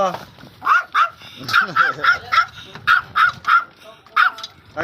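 A dog barks repeatedly in sharp, rhythmic bursts nearby, loud and insistent, with voices talking in the background.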